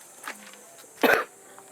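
One sharp, close cough bursts out, preceded by a faint throat noise, then quiet.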